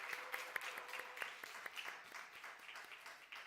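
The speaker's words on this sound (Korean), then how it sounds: "우리 박수로 격려하겠습니다." A church congregation applauding during a Sunday worship service, a fairly faint, scattered round of clapping with a few sharper individual claps standing out, no voices.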